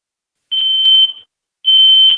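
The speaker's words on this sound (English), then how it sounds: "That was my smoke detector letting me know the battery is dying" A smoke detector gives two loud, sharp, high-pitched beeps about a second apart as its low battery runs down, piercing and close with silence between them.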